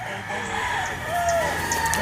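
A red Kelso gamefowl rooster crows nearby at a game farm. The strained, drawn-out call rises over a steady, noisy background.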